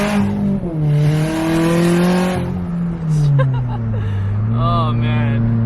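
A big-turbo Subaru BRZ accelerates hard up a freeway on-ramp, engine tone climbing through the gears with a shift dip midway, heard from inside the car with a voice speaking over it.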